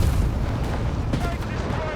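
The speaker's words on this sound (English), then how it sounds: "Only to get hit by British anti-tank guns." British anti-tank guns firing in Company of Heroes 3, heavy booming gunfire and rumbling battle noise dense throughout the short stretch, loud and close.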